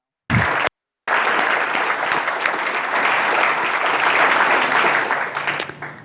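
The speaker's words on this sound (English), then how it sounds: "So let's give all of these folks a round of applause as well." A conference audience at a nonprofit technology summit breaks into sustained applause, a dense wash of clapping that holds steady for several seconds before thinning and fading out at the end.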